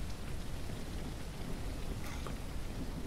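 Steady, soft rain hisses evenly throughout in the video game Ranch Simulator, a faint continuous patter with no voices.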